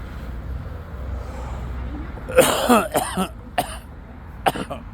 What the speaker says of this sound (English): Yeah, it's the coughing.